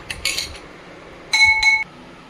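A spoon stirs lemon sharbat in a drinking glass, giving a few quick clinks early on and then two brighter ringing taps close by, with no talking.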